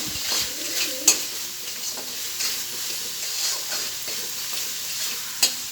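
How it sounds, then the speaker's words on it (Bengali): A spatula stirs spice paste (masala) for a Bangladeshi egg and potato curry in a pan, giving a steady soft sizzle with a few sharp scraping clicks. Faint bird coos sound in the background. "আর আগে আমি মশলাটাও নেড়ে দেবো"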